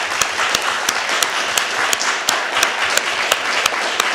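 An audience at a township meeting claps steadily and fairly loudly for several seconds, with sharp individual claps standing out from the dense applause.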